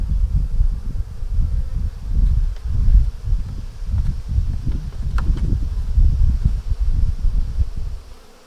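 Honey bees buzz steadily and loudly while being moved from a nuc into a hive, a dense close hum with a few brief rustles and no talk.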